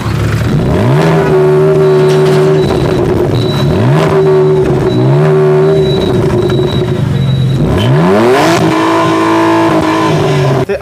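Petrol engine of a 2011 convertible car revving repeatedly, steady loud idle rising in several sharp throttle blips with falling returns, close by and with no talk over it.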